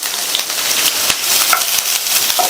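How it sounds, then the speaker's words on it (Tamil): Sliced onion and curry leaves sautéing in hot coconut oil in a pan, a steady close sizzle and crackle throughout with a few brief stirring scrapes. "இந்த வெங்காயம் நல்ல கலர் மாதிரி வர அளவுக்கு வதக்கிக்கங்க"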